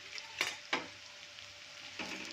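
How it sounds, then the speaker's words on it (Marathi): Sliced onion and peeled, chopped potato fry quietly in a pan for a leftover-rice pulao, giving a soft, faint sizzle broken by two sharp scraping stirs early on and another near the end. "आता हे पण 1-2 मिनिट छान असा फ्राय होऊ देऊया."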